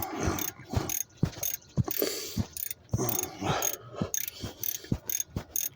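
A ratchet tightens an alternator bolt on a Chrysler Town and Country, giving bursts of rapid clicking strokes in an uneven back-and-forth rhythm, close and fairly loud with short pauses between pulls.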